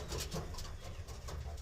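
Pigeons cooing inside a pigeon loft, a soft low continuous murmur of coos with a few birds resting indoors, steady and close with no talk.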